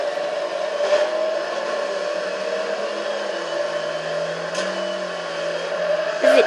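A steady car engine drone from a Forza Horizon 2 replay, a continuous whirring hum with a slowly shifting pitch and a couple of brief clicks, fairly loud and unbroken.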